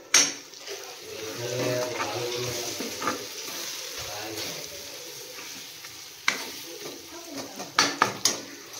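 Tomato and spice masala of coriander powder, garam masala, red chilli powder and turmeric cooks in a pan for a mushroom curry, with a soft steady sizzle, occasional stirring scrapes and a few sharp utensil clinks near the end.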